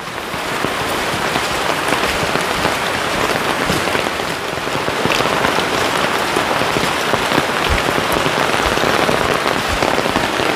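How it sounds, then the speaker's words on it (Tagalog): Heavy rain pouring in a forest, a dense, steady hiss of drops on leaves and ground that stays loud and continuous, with no talk. "Lumalakas yung lalo yung ulan."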